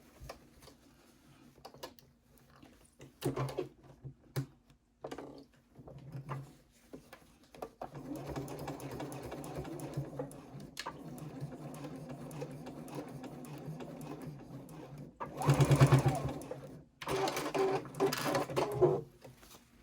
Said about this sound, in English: I'm just going to sew back and forth along there a couple of times